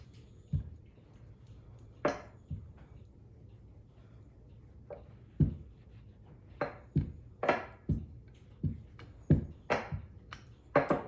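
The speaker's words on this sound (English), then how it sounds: "I'm using a marble rolling pin just because it's heavy and I don't have to put as much pressure on it" A heavy marble rolling pin works flour tortilla dough on a counter, giving soft rolling rumbles and a string of irregular knocks and taps that get busier toward the end, close by and moderately quiet, with no talking.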